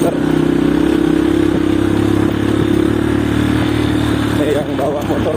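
Motorcycle ridden along a rough, bumpy village track in Pagar Dewa, its steady mid-pitched engine drone with vibration and clatter running close and loud throughout, a voice speaking over it near the end.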